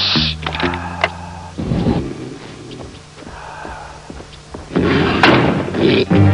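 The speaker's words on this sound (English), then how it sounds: "How was I supposed to know the door was going to close?" A door swings closed with a heavy thud, followed by quieter knocks and rattles, then a second louder burst of noise; the sounds are close and fairly loud, with no voices.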